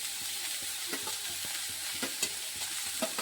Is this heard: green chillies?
yes